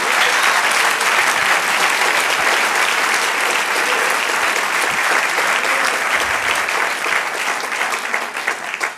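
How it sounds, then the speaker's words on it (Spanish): Church congregation applauding during a Spanish-language service: dense, loud, continuous clapping from many hands filling the room, steady from start to finish with a slight fade at the end. "Un aplauso al Señor."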